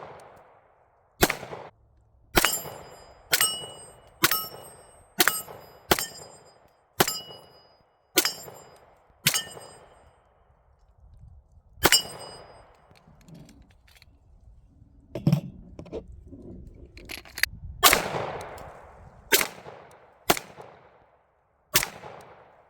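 A rifle fires a long series of sharp, loud shots during barrel velocity testing, each crack followed by a ringing decay, spaced about a second apart at first and then more irregularly with clattering noise in between.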